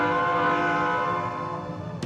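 Train heading from Vienna to Hungary in heavy snow, a loud sustained horn blaring with a steady rumble of the rails beneath, ending abruptly.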